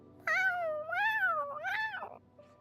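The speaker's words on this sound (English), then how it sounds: "For a kitty, meow means they are much happier than" A video game cat meows three times in quick succession, clear rising and falling calls at moderate volume with no talking.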